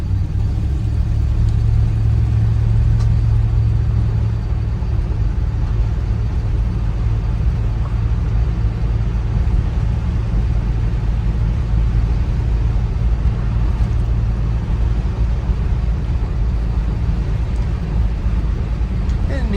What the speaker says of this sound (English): nice smooth driving Buick